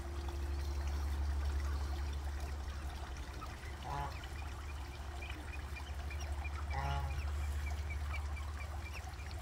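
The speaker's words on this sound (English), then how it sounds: "These ducks keep going for that little purple flower." Faint duck quacks, two brief calls a few seconds apart, over a steady low rumble and rushing water-like background noise.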